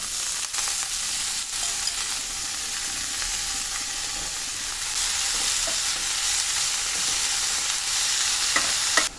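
Chopped fenugreek greens tipped into garlic frying in oil, giving a steady, close, bright sizzling hiss across the whole stretch with a few soft clicks of stirring and no voices.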